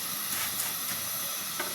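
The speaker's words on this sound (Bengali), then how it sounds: "এই তো রুটি ভাজছি" A roti fries on a stove, making a brief, steady, even hiss at close range with no talking.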